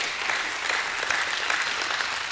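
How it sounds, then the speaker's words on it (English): A church congregation at Jewel City breaks into steady, dense hand clapping during a Sunday morning service, a continuous close wash of applause with no voices above it. "Give him a hand clap."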